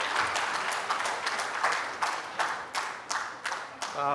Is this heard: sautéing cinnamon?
no